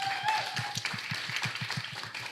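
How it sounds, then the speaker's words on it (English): Applause from a small live spoken-word audience for the featured performers, with a steady pulse of close, rhythmic hand claps over a lighter wash of scattered clapping and a brief faint voice. "can we have a round of applause for our features"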